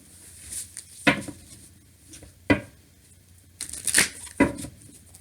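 Tarot cards being shuffled by hand, a few quiet, separate riffles and snaps spaced across a mostly hushed room, with brief sharper bursts near the end and no talk.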